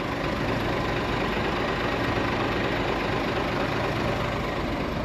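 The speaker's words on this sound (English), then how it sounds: "Left his engine running this one." An engine is left running at idle near a log-burning electricity setup, a steady, even rumble with broadband noise throughout and no talk.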